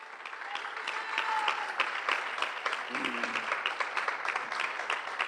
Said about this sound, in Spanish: Give a hand clap of praise unto the Lord.